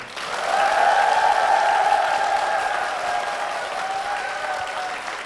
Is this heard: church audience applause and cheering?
yes